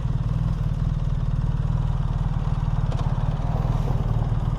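A 2026 BMW R 1300 RT boxer twin motorcycle runs with a steady, throbbing low engine pulse, close and continuous at low speed throughout.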